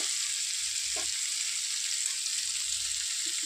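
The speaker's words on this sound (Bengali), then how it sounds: "আলু, ক্যাপসিকাম আর পেঁয়াজ ভেজে নিয়ে আসছি" Potato, capsicum and onion frying with ginger, garlic and spices give a steady bright sizzle throughout, with a few soft stirring knocks near the start and end.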